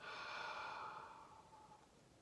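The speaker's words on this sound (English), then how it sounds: "And I want you to breathe out through your mouth." A slow, steady breath out through the mouth in a box-breathing relaxation exercise, a soft airy exhale that fades gradually over about two seconds, close and quiet with no talking.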